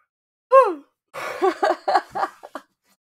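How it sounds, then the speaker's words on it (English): A long drawn-out yawn with a rising then falling voiced tone, followed after a pause by a few breathy, halting vocal sounds. "That yawn kind of stuck up on me."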